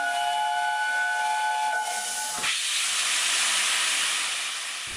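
A steam locomotive lets off a loud, steady hiss of steam that fills the whole clip, with a whistle-like tone in the first half before the broad rush of steam takes over.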